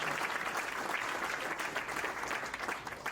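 An audience at a men's health night claps steadily for physicians, a dense sustained round of applause from a crowd.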